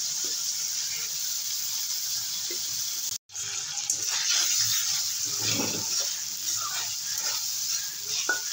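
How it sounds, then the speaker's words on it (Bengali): Prawns coated in salt and turmeric frying in a hot pan, a steady close hiss and sizzle with a brief break and some stirring clatter, no talking. "মাছটা ভাজা হয়ে গেছে, তুলে নেব।"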